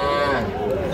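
A young heifer calf at a crowded cattle market lets out one close, loud, drawn-out moo that fills the whole moment, with market chatter faint underneath.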